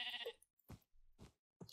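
A Minecraft sheep lets out a few short, quiet bleats in quick succession, each brief call separated by silence.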